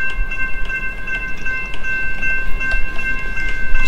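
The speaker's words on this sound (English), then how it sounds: "Two BNSF Warbonnets heading west." Two BNSF Warbonnet trains passing in a Roblox railroad game, with a steady rumbling rail roar, sustained horn-like tones held throughout, and faint clattering clicks, fairly loud and continuous with no talking.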